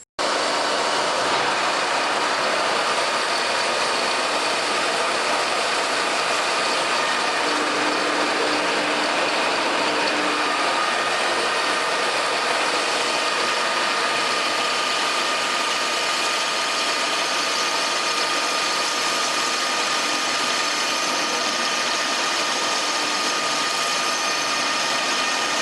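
A milling machine cuts a hex on a steel threading die holder, giving a continuous dense, bright grinding hiss with a faint steady whine, even and loud throughout with no pauses.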